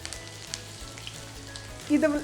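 Chopped garlic, ginger and green chillies hit hot oil for an appam and veg stew, giving a soft, steady sizzle that swells louder near the end as they are added.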